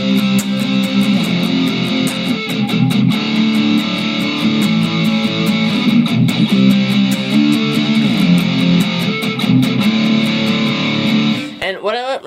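An electric guitar slowly strums chords steadily and fairly loudly with a slightly distorted tone, keeping an even rhythm before stopping near the end.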